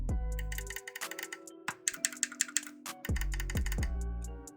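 Buttons on a Razer or Victrix pro game controller clicked one after another, crisp plastic clicks in uneven bursts and a quick run of taps, close up and clear.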